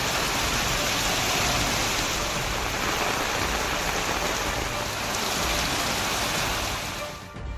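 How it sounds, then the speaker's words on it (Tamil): Widespread rain falling across parts of Tamil Nadu, a dense, steady hiss of drops on surfaces that holds loud and continuous before dipping briefly at the very end, with no talking. "தமிழகத்தின் பல்வேறு பகுதிகளில் பரவலாக மழை பெய்தது."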